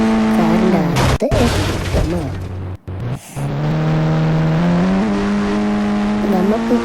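Car engine revving and whining in the Indian Bike Driving 3D game, with a sharp crash impact and shattering noise, then the engine note resuming steadily while a person talks.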